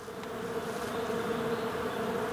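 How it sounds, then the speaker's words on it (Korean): Honeybees buzz among flowering trees on Geumsan mountain in Namhae in spring, a steady, continuous drone of many insects close by, with no voices. "꿀벌 소리입니다."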